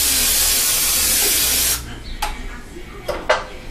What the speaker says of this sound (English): Then you spray it with your cooking spray.